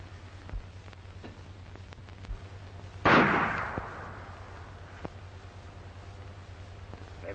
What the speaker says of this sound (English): They've stopped firing.